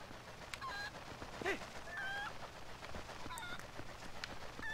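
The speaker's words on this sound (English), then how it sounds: "It's a golden chicken." A golden chicken clucks in The Legend of Zelda: Twilight Princess HD, giving a few short, bright squawks and honks over a steady game ambience, fairly close and with no talk.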